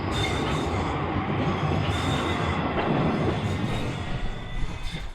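Steam train on the move between stations, a continuous rolling rumble of wagons and wheels with faint squeal and rail clatter, steady and moderately distant, no talking.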